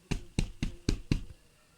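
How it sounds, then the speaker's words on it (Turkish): Five evenly spaced knocks on a door in the Toca Boca game, sharp and fairly close, with nothing else heard around them. "Ay kapı çaldı geldiler herhalde."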